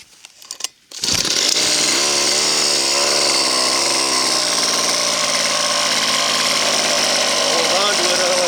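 A custom-built small engine on an RC helicopter bursts into life after a brief rattle, then runs loud and close with a steady high buzzing drone and slight wavering in pitch.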